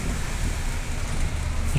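Rain pours steadily onto a flooded main street in Chittagong, forming a dense, even wash of hissing noise with a low rumble underneath.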